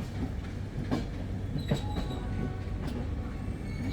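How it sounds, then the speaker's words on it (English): The Chennai Ahmedabad Humsafar Express at Kalyan junction station, with a low, steady rumble broken by metallic clanks and brief wheel squeals as the train prepares to depart, with no talking. "the train is about to start."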